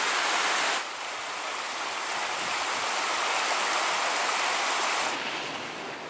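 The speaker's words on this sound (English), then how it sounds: "And this is the Mosquito River running into Lake Superior." Mosquito River pouring into Lake Superior at Pictured Rocks, Michigan, a steady broad rush of flowing water and surf near the beach, constant and moderately loud, without voices.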